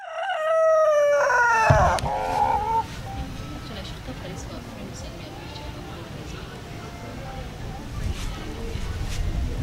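A rooster kept as live poultry at a home in Uganda crows once loudly and close by, a long drawn-out cry near the start, followed by background voices and household noise.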